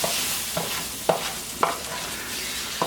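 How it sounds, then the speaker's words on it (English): Shrimp stir-fry in curry-seasoned oil for a Chinese shrimp curry, a soft steady sizzle broken by several sharp scraping stirs of the utensil against the pan, close and without talk. "we're going to stir fry off our shrimp into this mixture"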